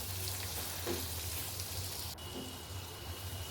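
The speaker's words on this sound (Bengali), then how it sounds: "এখানে ভালো করে নেড়ে নিতে হবে যতক্ষণ না পেঁয়াজটা নরম হয়ে যায়" Chopped onions softening in a pan, a faint, even sizzle of frying with a few soft stirring scrapes, heard quietly and alone.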